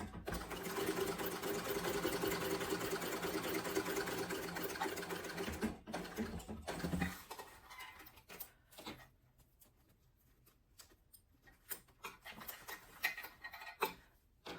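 A sewing machine bastes a strip across sling bag panels, running in a fast steady whir for about seven seconds, then stops, and scattered handling clicks and rustles follow.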